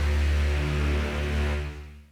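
Dry sampled Abbey Road strings heard without reverb, a thick sustained chord with strong low harmonics and a hazy upper layer that swells slightly, then tapers off at the close.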